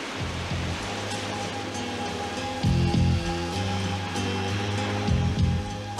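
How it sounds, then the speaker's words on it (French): Cartoon rain pours steadily over an island in a Moomins episode, a continuous broadband hiss with a low musical score humming underneath and swelling in a few places. "Mais je n'avais pas prévu qu'il pleuvrait."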